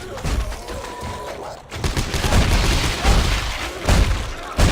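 Gunfire aimed at a monster's legs in Dead Space 3, a run of loud, booming shots and heavy thuds at close range, with a brief lull, mixed with voices.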